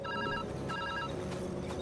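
A telephone rings in two repeated bursts of trilling bell tones over a steady background hum, moderately loud and with no speech.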